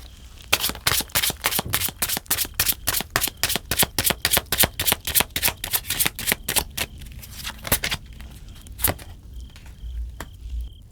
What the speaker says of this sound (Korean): 시기 카드를 뽑아보도록